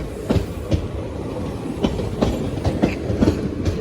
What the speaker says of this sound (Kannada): ಬಂತು ಟ್ರೈನ್ ಈ ಟ್ರೈನ್ ಅಲ್ಲ ಅಂತ ಅನಿಸ್ತದೆ